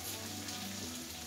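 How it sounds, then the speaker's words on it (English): Beef steak for pepper steak searing in a pan, a steady close sizzle and crackle of frying with no voices. "well this is frying up"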